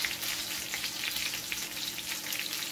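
Snapper frying in a pot of hot oil, Jamaican style, a dense continuous sizzle with crackling pops, close and steady throughout.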